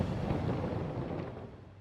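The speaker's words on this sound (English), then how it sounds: "The sheer power of a cosmic blast is terrifying." A deep, rumbling explosion effect depicts a cosmic blast, with a sustained low roar that slowly fades over about two seconds. No voices are heard.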